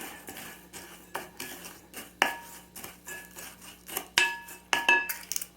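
A spoon stirs and scrapes a thick bourbon pecan ball mixture, with chopped nuts, around a bowl, giving close, intermittent scrapes and light clinks of metal against the bowl in an uneven rhythm.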